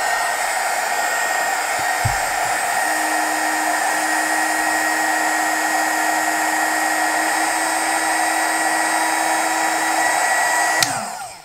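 A TACKLIFE HGP35AC mini heat gun runs with a loud, steady blowing whir while shrinking a large piece of heat shrink tubing held in pincers, then switches off abruptly near the end.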